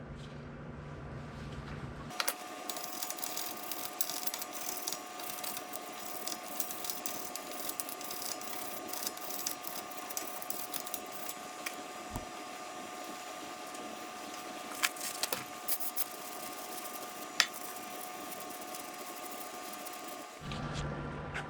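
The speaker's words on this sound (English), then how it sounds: "I'm going to take a wire brush, go over this real quick and clean it up" Wire brush scrubbing the front brake hub of a 2017 Mazda CX-5 with the rotor removed, a steady close, dense scratching rasp lasting about twenty seconds with a few sharper clicks and knocks.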